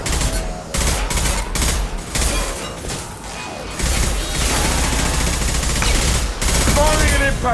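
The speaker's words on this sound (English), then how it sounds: "Firing an impact shot." Impact shot gunfire in Mass Effect 2, loud sustained bursts of automatic fire with heavy thuds and crashes, nearly continuous across the clip, with battle chatter partly under the shots.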